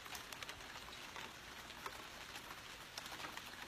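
Rain falling outdoors on a garden, a faint, steady patter of drops with light scattered ticks, heard alone at low level.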